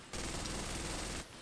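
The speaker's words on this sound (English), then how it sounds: "Who's over there shooting?" Rapid automatic gunfire in a video game, a dense continuous burst that holds steady for about a second before cutting off abruptly, loud and close with no talking over it.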